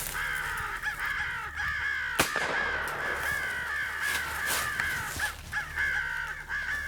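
Crows cawing repeatedly during a public land crow hunt in Kentucky, harsh calls from several birds at varied distances with one sharp loud crack near the middle.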